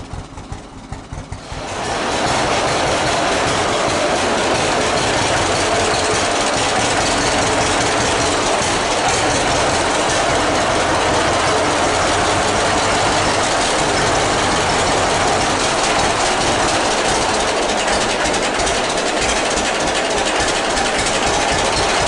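A 1951 John Deere Model B tractor engine catches after a brief moment on a cold start, then runs at a loud, steady idle with a deep rumbling chug throughout.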